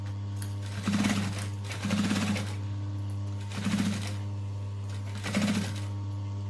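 Sewing a bag with back stitching at the start, a domestic sewing machine runs in four short, close bursts of rapid stitching over a steady motor hum, with pauses between each run.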